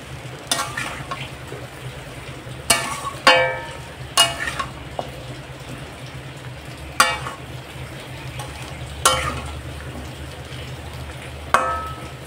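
A catla fish head fries with salt and turmeric in a pan, giving a steady low sizzle broken by several sharp clanks as a utensil stirs against the metal, with no voices.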